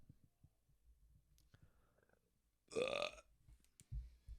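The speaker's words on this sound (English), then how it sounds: "I just burped" A single loud, low burp bursts out in the middle of a quiet stretch, close to the mic, with faint rustling before and after.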